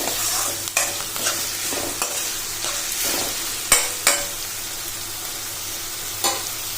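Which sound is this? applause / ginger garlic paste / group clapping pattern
ginger garlic paste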